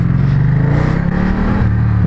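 Ducati Diavel 1260 motorcycle engine pulling hard on a track circuit, a loud close, continuous throaty drone rising in pitch as it accelerates, briefly dipping near the end.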